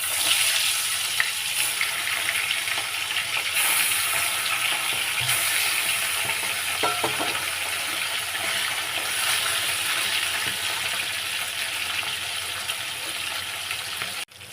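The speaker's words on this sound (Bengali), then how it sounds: "মাছে হলুদ আর লবণ মাখিয়ে নিয়েছি, নিয়ে এই ভাজতে দেবো, তেলের উপর দিয়ে দিলাম।" Tilapia fish coated in turmeric and salt frying in oil, a steady loud sizzle and crackle with no talking, running throughout.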